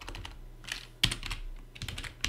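Scattered keystrokes on a computer keyboard while entering wallet commands for crypto mining software, a few soft clicks with one sharper key press near the middle, close and fairly quiet with no talking.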